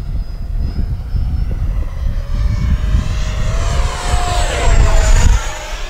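An FMS Futura 64 RC jet making a full-speed pass down the runway, a loud steady electric ducted-fan whine that rises and sweeps in pitch as it comes close, then falls away.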